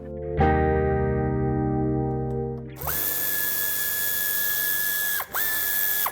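A ratchet tool works on the two Torx 30 screws under a Jeep Compass: a ringing mechanical onset, then a loud, steady motorized whir close by that briefly stops and restarts near the end, with no voices.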